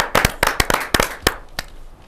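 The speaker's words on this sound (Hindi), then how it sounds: "आप सबकी जोरदार तालियों के साथ" Applause at a Hindi kavi sammelan poetry gathering, a handful of sharp, close, separate claps in an uneven burst that thins out after about a second and a half.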